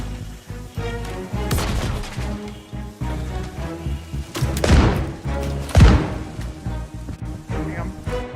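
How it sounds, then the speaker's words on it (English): Repeated gunfire and heavy thuds from a multiplayer shooter game, loud and dense bursts with booming impacts throughout, no talk over it. "I got incoming fire."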